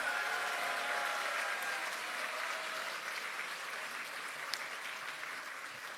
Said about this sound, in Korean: 오늘 이 자리를 맞이하기까지 애써주신 당원 여러분 서로에게 큰 박수 부탁드립니다